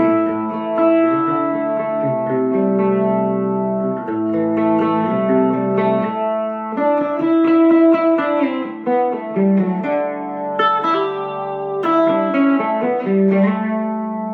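Electric guitar with volume and tone turned fully up, played through a Fender Deluxe amp with only reverb added: sustained chords and melodic notes ringing in a continuous, reverberant phrase, loud and alone.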